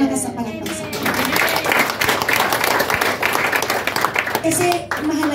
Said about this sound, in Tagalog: Isang malakas sa palakpak sa Panginoon.